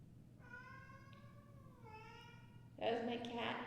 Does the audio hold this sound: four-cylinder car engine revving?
no